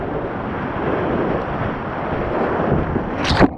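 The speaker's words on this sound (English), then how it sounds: "All right, the first set of rapids" Whitewater rapids rush around a paddler working a Lettmann paddle, a steady close roar of water mixed with wind buffeting on the microphone, and a short splash near the end.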